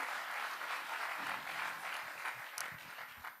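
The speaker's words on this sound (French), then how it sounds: "Allez, on peut l'applaudir." An audience applauds speaker Arnaud at a conference, a soft, steady patter of many hands heard from a distance, with a few low thumps near the end.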